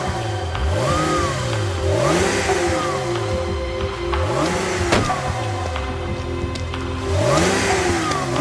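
A car engine revs repeatedly in a tense police stop, rising and falling in roughly three loud swoops a few seconds apart over a steady mid-pitched running drone, close and with no talk.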